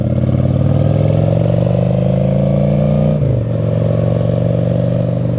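A motorcycle engine runs loud and near with a steady, rumbling idle, briefly dipping and then picking back up partway through as the throttle shifts.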